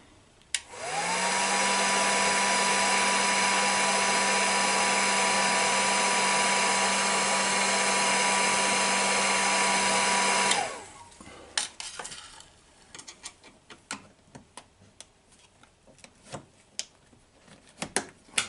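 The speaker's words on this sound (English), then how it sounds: "So I use a heat gun and make it more pliable." A heat gun blows steadily and loudly for about ten seconds while softening brittle Mercedes-Benz W116 door panel clips, then cuts off, leaving faint clicks and handling noises.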